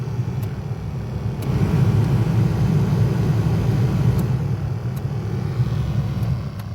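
The heater fan motor of a second-generation Toyota Tacoma runs steadily with a low, rumbling whoosh of air, heard up close with the heat on and a few faint ticks, and no speech.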